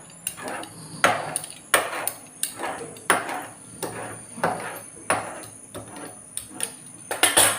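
A pizza cutter rolls through layered parotta dough on a hard surface, giving a steady series of sharp clicking knocks, roughly one every half second, close and fairly crisp with no talking.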